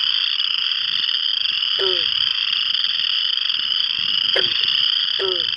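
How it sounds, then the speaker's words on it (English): A dense, steady chorus of high trilling frogs at night, with a few deeper croaks popping out now and then. "It took us a while to figure out what it even was, and it turns out it was frogs."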